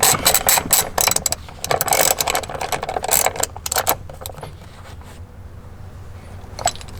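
A T50 ratchet driving a seatbelt bolt into a BMW M3 gives close bursts of sharp clicking, then a quieter stretch and a final few clicks.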